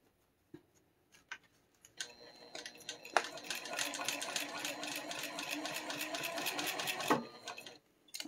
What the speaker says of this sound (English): Okay, so we are sewing along the top edge.